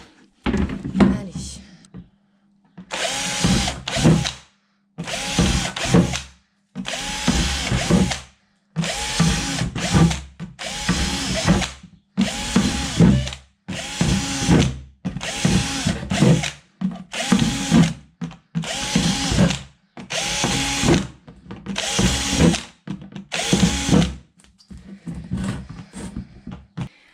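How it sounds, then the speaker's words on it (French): A power drill bores holes in a plastic worm composting bin, giving a long series of loud, evenly spaced bursts of whirring, each lasting a second or two with short pauses between. "Il faut que je perce ce bac pour commencer."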